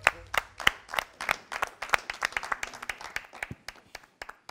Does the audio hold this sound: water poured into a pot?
no